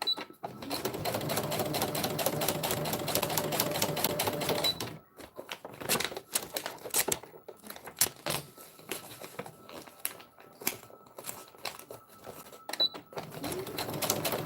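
A sewing machine stitches a beach bag in a steady fast whirring run for about five seconds, then stops and starts in short bursts mixed with handling clicks and fabric rustle, with no talk.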